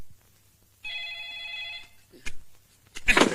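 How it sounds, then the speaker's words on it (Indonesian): An old telephone bell rings in a single sustained burst, fairly close and clear, followed by a few scattered knocks and thumps in an otherwise quiet room. "Itu juga telepon berderang-derung"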